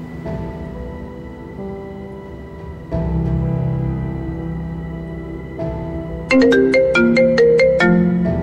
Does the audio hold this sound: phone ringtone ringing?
yes